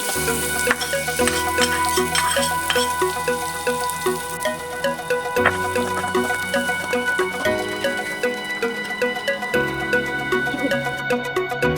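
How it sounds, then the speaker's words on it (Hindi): Onions frying in oil for a matar paneer curry: a steady bubbling sizzle throughout, with frequent stirring clinks and scrapes over a constant background hum, close and moderately loud. "यहाँ पर इसी ऑयल में प्याज को फ्राई कर लेंगे अच्छे से।"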